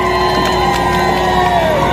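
A large crowd cheers and whoops at a political rally, a dense, loud, continuous roar that holds steady throughout.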